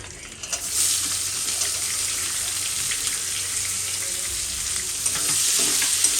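Chopped onions frying in oil with dried red chillies, a loud continuous hissing sizzle that swells slightly as the pan is stirred, no voices over it.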